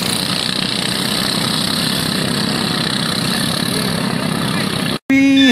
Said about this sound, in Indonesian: kapal ketinting, guys